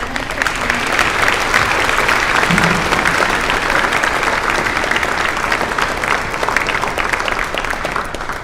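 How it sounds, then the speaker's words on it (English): Sustained, loud audience applause fills a school hall after a performance at a middle school Veterans Day celebration, dense and continuous clapping from a large crowd with a faint murmur underneath. "I would like for all of us to give a round of applause for such a beautiful performance."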